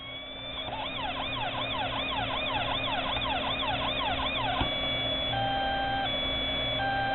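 A Federal Signal PA2OA Interceptor siren box, run without a speaker, gives a fast yelp that warbles rapidly in repeated cycles, then changes abruptly to a two-tone hi-lo pattern alternating steadily; thin, electronic and continuous, with no voices.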